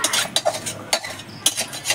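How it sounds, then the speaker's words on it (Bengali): Khichuri cooking in a pot, with a spoon scraping and clinking against the metal in irregular stirring strokes, close and moderately loud over a faint background hiss. "দাদু আর মা খিচুড়ি রান্না করছে।"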